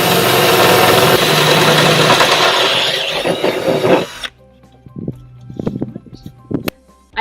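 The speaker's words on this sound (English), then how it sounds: "Now I'm going to step straight up to the 8mm drill bit." A power drill fitted with an 8mm bit bores through a motorcycle rack, a loud steady whine for about four seconds, then stops abruptly, leaving a few short clicks and knocks.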